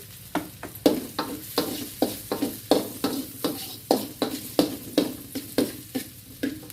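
Shrimp pad thai being stir-fried in hot oil, a steady sizzle broken by regular, rhythmic scraping strokes of a spatula against the pan, close and loud, with no talking.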